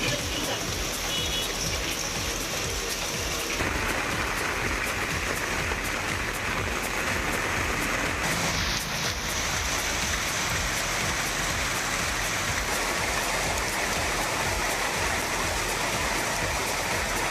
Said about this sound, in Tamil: மாலையில் மிதமான மழை பெய்தது